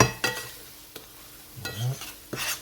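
Garlic frying in a pan, with a soft sizzle under a few scraping stirs and light utensil knocks against the pan.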